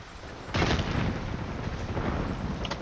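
A sudden explosive grenade boom in the video game Call of Duty: Black Ops bursts in after a brief quiet start, followed by a rumbling, crackling tail that stays loud to the end.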